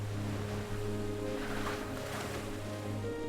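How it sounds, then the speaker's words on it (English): Ocean waves wash in a steady broad surge, with a low constant hum and a swell rising and falling in the middle. "Ocean. Vast, wavy ocean."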